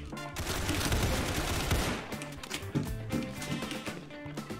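Dense bursts of rapid gunfire in Counter-Strike, loud and close, thinning into scattered shots and clatter.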